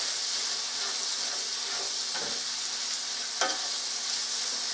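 Garlic and onion sizzle steadily in a pan, a constant close frying hiss with a few soft stirring scrapes, alone with no talk.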